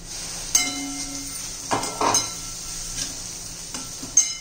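Crushed peanuts stir-fried in oil in a pan, with soft, intermittent scraping and stirring clatters over a faint background sizzle and sharp utensil taps at the start and end.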